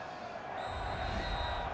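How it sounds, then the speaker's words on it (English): Football stadium crowd at a Green Bay Packers game at Carolina, a broad sustained roar of many voices rising after half a second and holding steady, with rhythmic chanting of the team cheer blended into the noise. "Listen to this crowd now, Patrick, saying, "Go Pack, go! Go Pack, go!""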